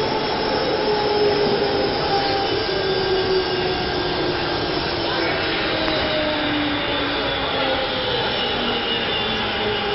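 A steady roar of a Barcelona metro train running along the track, constant rumbling and whining with no pauses.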